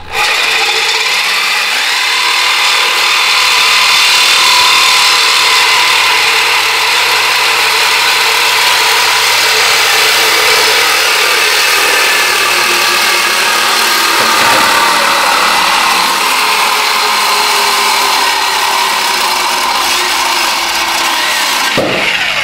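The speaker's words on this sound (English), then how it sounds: "Cut through this stuff with the sawzall pretty quick." A sawzall reciprocating saw cuts steadily through the exhaust pipe of a Dodge Journey during flex pipe and Y-pipe repair, a loud, continuous, harsh rasping buzz close by that runs the whole time with no talk.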